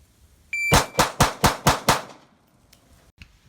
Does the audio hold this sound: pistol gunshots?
yes